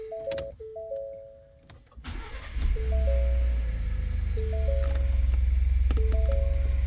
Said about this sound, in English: I heard the compressor come on.